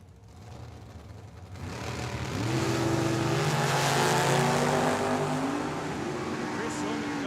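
A Chevy S10 pickup and a Datsun launch in a drag race at Tucson Dragway: engines rise from quiet into a loud, sustained revving roar with climbing gear tones, holding strong to the end.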